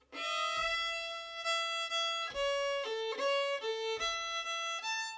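A fiddle plays a bowed melody alone, smooth sustained notes stepping up and down in pitch with a steady rhythm, close and fairly loud.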